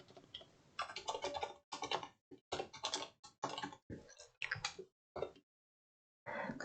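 Quick bursts of keystrokes on a computer keyboard, typed in several short runs separated by brief pauses, close and clear with no talk over them.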